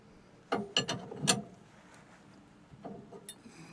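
A wrench tightens a tie rod on a Ford F-53 motorhome chassis, giving a few close, sharp ratcheting clicks in a quick cluster, then fainter clicks after a brief pause.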